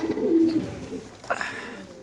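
At a pigeon market in Bangladesh, a pigeon coos close by with a soft, throaty warble. A second call follows a moment later. No voices are heard.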